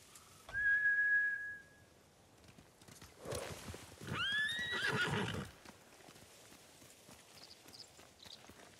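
Horses whinny loudly twice in the video game Ghost of Tsushima, with high, wavering neighs, the second longer and louder, over a faint background of movement.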